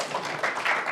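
Brief applause from a tech conference audience at a serverless computing talk, a short soft patter of clapping lasting about a second at low level.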